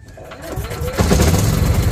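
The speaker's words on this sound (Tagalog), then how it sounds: "parang hirap na hirap ang makina. Bakit? Kasi naka-choke." A Greenfield 4000W inverter generator with electric start cranks over with the choke on and catches, its engine rising into a loud, rough, laboring drone close by while a person talks over it.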